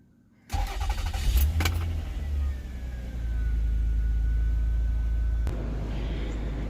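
A 2003 Toyota Avalon XLS with about 164,000 miles starts: a brief starter crank catches into a loud, close engine rise, then settles to a steady idle hum, with a click near the end.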